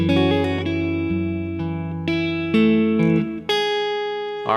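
Electric guitar strums a sequence of sustained chords from a song, each chord ringing out clearly before the next, played alone at a steady, unhurried pace.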